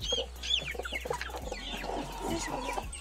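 Guinea fowl hen clucking close by near her chicks, a quick run of short, busy clucks and chirps with no talk over them.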